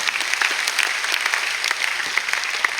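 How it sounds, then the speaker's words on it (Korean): A church congregation claps together, with bright, dense applause from many people filling the space evenly for a few seconds with no speech over it. "박수하겠습니다."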